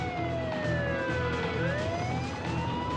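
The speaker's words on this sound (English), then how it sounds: "An ambulance roars through the downtown business district." An ambulance siren wails with falling then rising pitch sweeps as the vehicle races through a downtown business district in Huntington Beach, California, loud and passing close over the traffic rumble.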